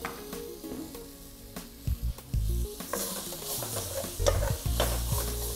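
Food sizzles sharply as ingredients with onion are poured into a hot pan for beef shank with beer, with stirring, scraping and clinks of utensils in bursts over a steady fry.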